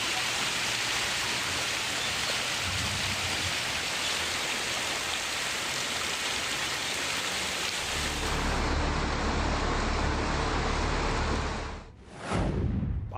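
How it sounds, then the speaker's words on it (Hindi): Heavy rain falling in Mumbai during high-tide warnings, a loud, continuous hiss of downpour that keeps its strength, with a brief dip and swell near the end and no voices. "प्रचंड बारिश का प्रहार, देश दुनिया में हाहाकार।"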